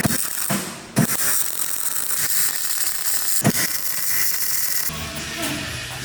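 Rear anti-roll bar brackets being fitted on an old Toyota, a dense run of close ratcheting and metallic clicking with sharp knocks and clanks, continuous and busy throughout with no talk.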